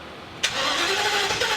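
Engine of a 2017 Thor Vegas motorhome cranking over on jumper cables, a sudden onset of steady starter whirring that continues without catching, close up.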